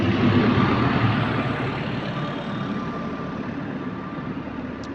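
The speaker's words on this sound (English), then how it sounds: "Oh, that's got an exhaust leak." Hybrid bus with an exhaust leak on route 407, giving a loud, steady broadband engine roar and rush nearby that eases slightly as it runs.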